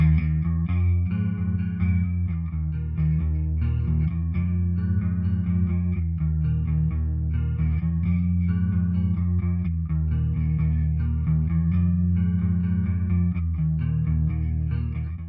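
Bass guitar run through a Boss CE-2 Waza chorus pedal set to CE-1 mode, playing a steady, full low line with a shimmering, warbling chorus tone, loud and alone with no talk.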